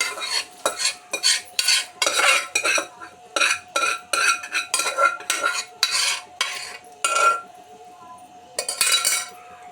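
A spoon stirs potato and chana dal curry in a pan, producing a rapid series of rhythmic metallic scrapes and clinks against the pan, close and steady throughout.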